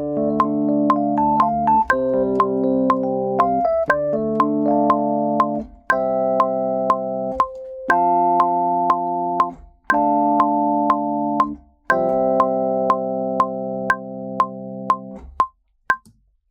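Logic Pro metronome click during recording, a steady run of sharp clicks over blocks of sustained synthetic tones that start and stop in sections, loud and alone with no talk.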